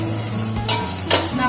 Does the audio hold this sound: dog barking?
no